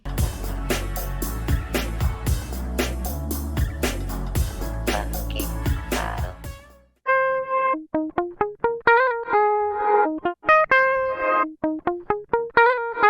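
Music plays with a washy, echoing reverb effect from the Carp Audio Reverb plugin, then cuts to sparse plucked notes whose tails ring out in a processed, spacious decay.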